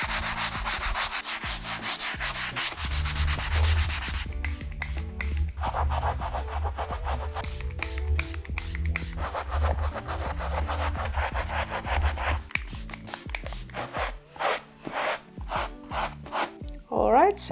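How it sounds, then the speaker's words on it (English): Leather seats from a Volvo 850R interior are sanded by hand, a steady scratchy rubbing that turns into quicker, choppier strokes with brief pauses near the end, heard up close with no talking. "I'm just going to sand all the leather and then I'll clean the Alcantara again"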